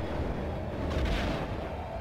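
Blaster fire at probe droids in the Star Wars: Rogue Squadron video game, a dense continuous rumble of booming shots with a brighter burst midway, loud and close throughout.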